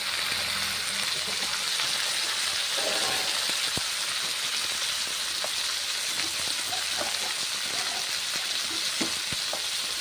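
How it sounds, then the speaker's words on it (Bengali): Bitter gourd pieces fry in hot oil in a pan, giving a steady, dense sizzle like light rain, with scattered scraping clicks as they are stirred, and no voices. "নেড়ে চেড়ে ভেজে নিচ্ছি উচ্ছেগুলো"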